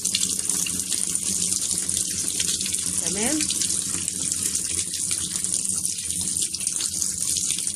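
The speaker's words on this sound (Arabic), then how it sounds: "شايفين معايا كويس اهو، هي بتملى مية لنفسها" Tap water runs from a faucet into a Toshiba semi-automatic washing machine as it fills, a constant splashing gush. Someone speaks a word briefly over the water.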